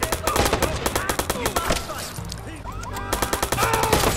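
Rapid bursts of gunfire in the Watch Dogs video game, loud sharp shots in dense repeating volleys with a brief lull in the middle before the firing resumes.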